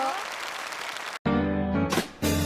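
A studio audience at a televised singing contest applauds in a burst of dense clapping for about a second, then the sound cuts to loud music and a studio jingle.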